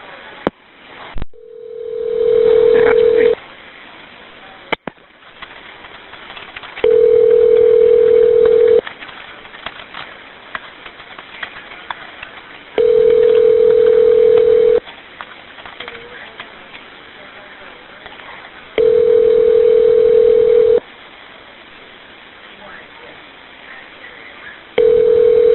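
A telephone call rings through a handset: four long ringback tones, each about two seconds, repeat at steady intervals with quiet pauses between, loud and close, after a brief click at the start.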